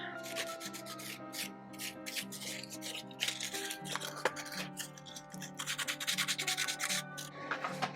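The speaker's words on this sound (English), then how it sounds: "take the sandpaper again and just file a little bit of that paint off" Sandpaper rubbing paint off an art piece in a studio, a steady scratchy back-and-forth sanding with quicker strokes toward the end, close and clear over a soft musical background.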